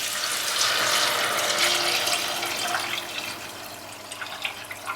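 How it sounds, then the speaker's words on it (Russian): A steady stream of water pours into a soup pot of carrots and onions, a bright continuous splashing that eases and becomes more uneven toward the end, close by with no speech. "Наливаем сюда воду."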